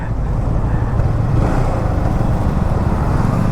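A motorcycle cruising smoothly along a road, its engine a steady, loud, even rumble mixed with wind noise, with no change in pace.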